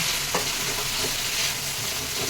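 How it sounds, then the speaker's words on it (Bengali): Fried pointed gourd stirred into masala in a pan, a loud continuous sizzle with scraping spoon strokes across the short stretch. "এবার এই পটল ভেজে রাখাগুলো আমি দিয়ে দেবো"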